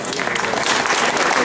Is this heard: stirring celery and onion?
no